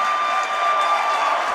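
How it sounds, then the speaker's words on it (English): A home crowd at a high school varsity basketball game clapping while their team defends, a steady wash of crowd noise and clapping heard from a distance, brief and even. "Clapping on defense."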